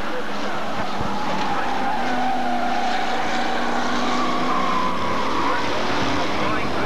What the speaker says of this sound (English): Ray Witts is spun out in the top bend.